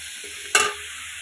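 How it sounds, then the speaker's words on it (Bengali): Snake gourd and ridge gourd with salt and turmeric fry in hot oil in a pan, giving a steady soft sizzle with one short, louder burst of stirring or spatula scraping partway through; no voices. "চিচিঙ্গাটা দিয়ে দিয়েছি এখন লবণা হলুদ দিয়ে দিয়েছি ঝিঙ্গাটা একটু ভাজা ভাজা হয়ে আসবে"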